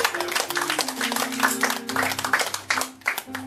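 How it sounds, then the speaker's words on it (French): An evening audience applauds Yvon Danjou, a steady dense patter of many hands with a few sharper claps, over sustained musical tones from a stage performance. "Yvon Danjou, on l'applaudit, mesdames et messieurs."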